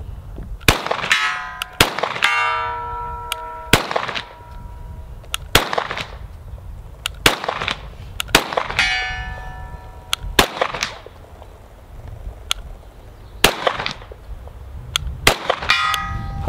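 A Sig P320 pistol fitted with a CAA MCK conversion kit fires a series of sharp, loud single shots at an outdoor range, several of them followed by ringing metallic clangs of rounds hitting a steel target.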